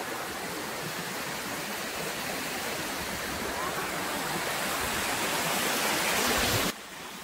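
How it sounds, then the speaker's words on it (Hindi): A waterfall roars as a dense, constant rush of water, fairly close and unbroken, then drops suddenly in level near the end. No one speaks over it. "झरना"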